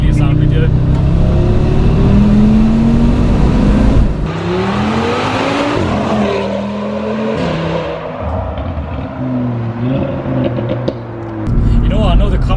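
Audi RS3 tuned to 500 bhp revving hard, loud and close, with rising and falling engine pitch through repeated pulls and gear changes, a rumbling exhaust throughout and a brief dip in loudness near the end.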